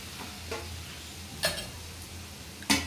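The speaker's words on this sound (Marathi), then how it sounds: "आता याच तुपात आपण हा रवा भाजून घ्यायचा आहे।" Semolina roasting in ghee in a pan for mango sheera, giving a soft background sizzle with a few sharp scraping stirs of a spoon, quiet and close with no talking.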